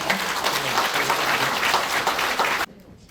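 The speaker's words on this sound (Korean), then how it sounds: "큰 박수 주시면" A ceremony audience at a Red Cross chapter president inauguration breaks into dense, loud applause that holds steady for a few seconds and then cuts off abruptly near the end.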